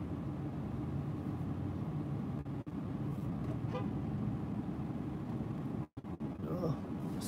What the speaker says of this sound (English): the traffic is pretty heavy down here